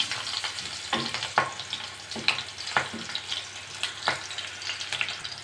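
Cumin, crushed garlic, green chilies and a dried red chili sizzle in oil in a pan for tomato kulambu, a steady close crackle broken by repeated scraping strokes as a spoon stirs them.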